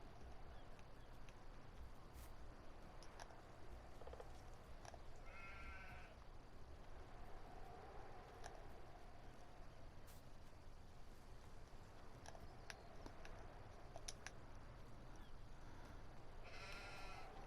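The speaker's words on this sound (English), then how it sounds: "Alright, sheep." Sheep bleating in Farming Simulator 19 on PS4: a few short harmonic bleats stand out near 6 seconds and again at the end, over a steady low farm ambience with no talking.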